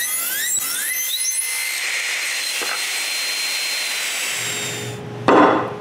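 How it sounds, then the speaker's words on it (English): A saw makes a series of cuts to clear waste from wooden mortises, giving a steady high whine over broadband cutting noise, with a brief louder burst near the end. "When both cheeks are cut, I remove the waste with a series of cuts."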